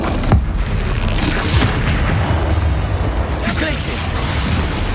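In Hogwarts Legacy combat, the Confringo fire spell erupts in booming explosive blasts amid continuous, dense battle noise, with voices present throughout.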